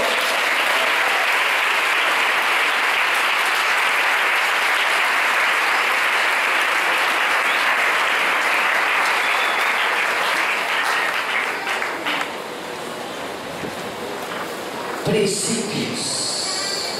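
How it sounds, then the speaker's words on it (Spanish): A church congregation applauds in a long, dense burst of clapping that stays loud and steady, thinning and fading toward the end, where a voice briefly speaks. "Denle un aplauso al Señor."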